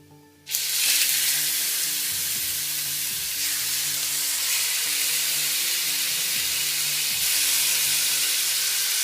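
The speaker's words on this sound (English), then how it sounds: "Get it nice and hot. And put our steaks in." Steaks dropped into a very hot pan burst into a loud, steady sizzle that holds without letup, close up and with no one talking.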